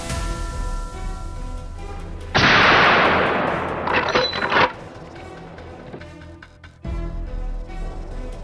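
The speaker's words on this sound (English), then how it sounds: "fired several shots in quick succession" Several shots from a hunting gun during a wild boar hunt, loud and close, in two or three bursts with a noisy mechanical rattle between, over a steady outdoor background.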